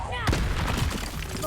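Confringo spell blast in the video game Hogwarts Legacy, a sudden loud fiery burst with a crackling, rumbling tail lasting about a second, amid other combat noise and a raised voice.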